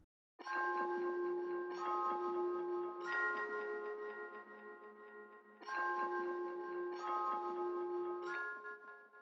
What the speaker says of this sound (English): bells that were like from a one-shot pack, took out the attack on it a little bit just to make them not as harsh